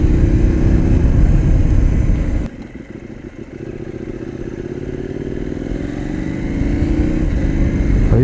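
KTM Duke 890 motorcycle on the road, its engine droning loudly and close, with an abrupt quickshifter gear change cutting the note before it climbs again under acceleration.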